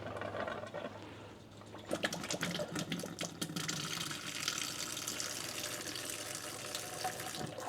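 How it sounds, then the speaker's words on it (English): Water gushing from a Frizzlife PD1200 reverse osmosis faucet as it is switched on, a quiet start with air sputtering before a steady, full stream runs continuously under a sink. "for the faucet itself, we'll go ahead and turn it on."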